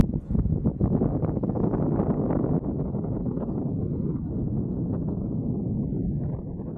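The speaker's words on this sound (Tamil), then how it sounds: "இப்போ நல்ல காற்று வேர்லெல்லாம் அடிக்குது" Strong, gusty wind roaring at the Lotus Tower, buffeting the microphone with a dense, continuous low rumble that eases slightly partway through.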